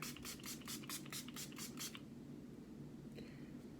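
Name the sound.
spraying Hard Candy Longwear Sheer Envy setting spray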